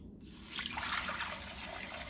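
Hot water runs from a kitchen sink tap into a pan, a steady close trickle-to-splash of flowing water that starts abruptly and continues evenly throughout.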